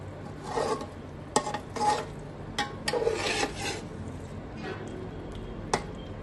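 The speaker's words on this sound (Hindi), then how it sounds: "ये देखिए मैं हल्का हल्का इसको मिक्स कर दूंगी।" A spoon gently stirring and mixing borani baingan, an Afghan eggplant dish, in a pot, giving soft scraping and rubbing strokes with occasional sharp clinks against the rim, close and quiet.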